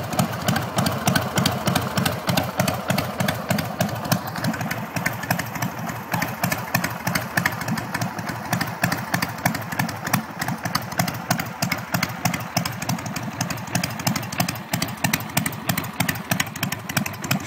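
A vintage Vincent motorcycle engine idles close by with a steady, rapid, throbbing pulse that holds evenly throughout, without talk.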